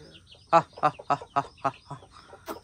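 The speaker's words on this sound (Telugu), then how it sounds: "ఇది పాత కోడే, ఇగో ఇది కొత్త కోడి." Old and new hens cluck in a quick run of about seven short, evenly spaced clucks, close by and distinct.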